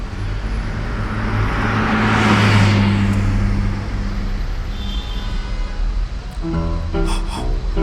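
A car driving on a road, with a steady engine and road rumble that swells and passes by midway, then continues at an even level to the end; no talk.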